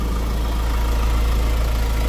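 The fan motor of a 2024 Ford Ranger XL 4x4 hums steadily up close, a loud, constant low droning whir with no talk.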